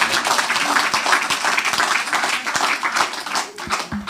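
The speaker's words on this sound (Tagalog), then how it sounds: "Isang malakas na palakpak sa Panginoon" Church congregation applauding, loud dense clapping from a crowd filling the room, continuous and close with a few sharper individual claps standing out.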